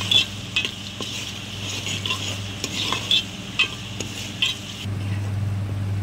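A spoon stirs snakehead fish curry with squeezed lemon juice in a pan, scraping in a steady, uneven rhythm over a low simmering sizzle, close and moderately loud, with a low steady hum underneath and no talking.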